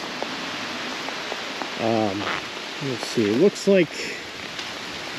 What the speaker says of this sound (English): A lot of heavy rain still, which is not phenomenal.